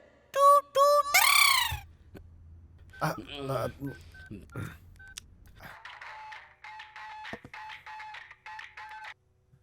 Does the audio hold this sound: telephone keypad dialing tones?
yes